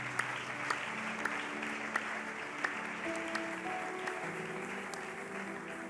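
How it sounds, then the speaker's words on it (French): A church congregation at a French-language prophetic service claps loudly and steadily, a continuous wash of applause with a few sharper claps standing out, no talk over it. "Acclamez très très très bien, on va commencer."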